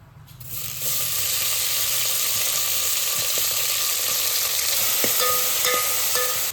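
Tempering with fenugreek leaves bursts into loud, steady sizzling as it hits hot oil, a dense crackling hiss with occasional pops and stirring clinks continuing throughout.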